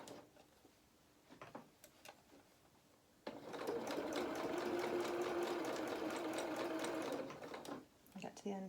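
A sewing machine with a walking foot stitches fur fabric for a highland cow doll head, running in a steady loud whir for several seconds after a few short bursts, with a voice speaking softly now and then.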